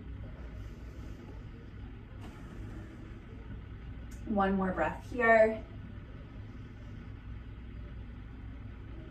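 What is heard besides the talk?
construction crew truck noises outside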